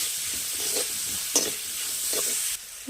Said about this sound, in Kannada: ಇದಕ್ಕೆ ಬಟಾಣಿಕಾಳು ಹಾಕೋಣ ಮತ್ತು ಸ್ವಲ್ಪ ಬಾಡಿಸ್ಕೊಳ್ಳೋಣ